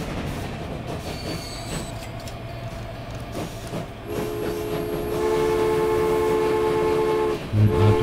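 A train pulls into a station in the railway simulation game Transport Fever, with a steady rolling rumble that swells after the midpoint, sustained whining tones over it and a low horn-like blast near the end.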